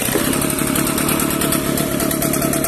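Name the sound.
Echo Kioritz leaf blower engine pull-started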